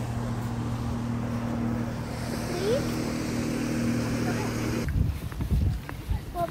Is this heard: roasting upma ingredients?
no